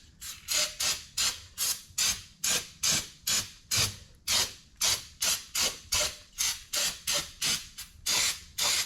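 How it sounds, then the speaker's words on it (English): Brake cleaner sprayed onto engine parts during a timing rebuild, heard as about eighteen short, loud aerosol bursts in a quick, steady rhythm, each a sharp hiss, with no talking. "just hitting it with brake clean to clean it off"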